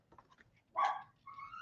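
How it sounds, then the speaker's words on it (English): A pet dog making odd vocal noises indoors: a few faint yips, then a sharp bark-like yelp, then a drawn-out whining cry, close and moderately loud. "that was my dog, if you can believe it, making all kinds of crazy noises"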